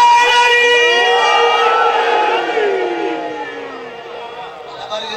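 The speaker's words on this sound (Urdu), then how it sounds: "نعرے دی گونج رہی ہے" A crowd at a religious majlis chants slogans in unison, loud sustained voices with sliding, tonal calls that gradually fade and thin toward the end.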